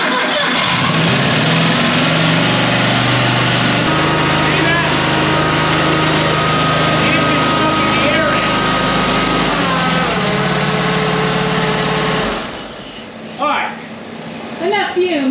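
A utility vehicle engine, cold with 108.4 hours on it, runs steadily at idle, a loud continuous drone with a shift in tone partway through, then cuts off and gives way to quieter sounds.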